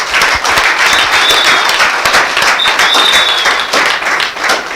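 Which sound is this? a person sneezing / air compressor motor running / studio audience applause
studio audience applause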